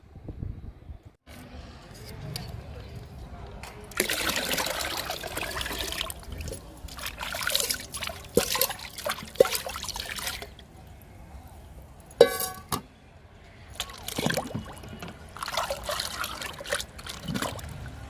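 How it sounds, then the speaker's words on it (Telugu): Liquid fertilizer trickles and dribbles into water in soft, uneven splashes, with a few sharp knocks and clinks of containers in between. "ఇప్పుడు ఈ లిక్విడ్ ఫర్టిలైజర్ వాటర్లో కలుపుకుందాము"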